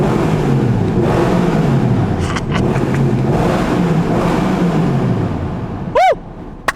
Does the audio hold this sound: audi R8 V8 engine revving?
yes